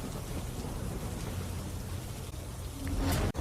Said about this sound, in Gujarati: જિલ્લાના તમામ તાલુકામાં વરસાદ વરસી રહ્યો છે